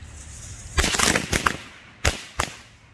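Bunker Bombs firecrackers burst outdoors in a quick cluster of sharp cracks followed by two separate louder pops, each explosion short and punchy against faint background hiss.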